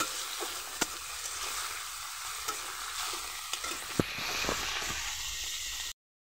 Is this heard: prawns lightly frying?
yes